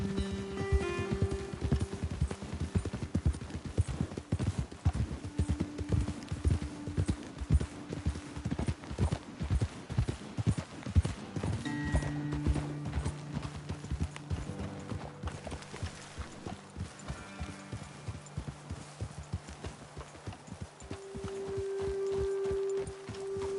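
Horse hooves clip-clopping steadily on a trail in the video game Red Dead Redemption, a continuous close walking rhythm with occasional tonal game sounds in the background.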